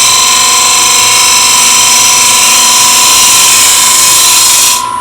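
An end grain hollowing tool cuts into spinning wood on a lathe, making a loud, steady high-pitched whine and hiss with a constant tone that fades at the end as the cut finishes.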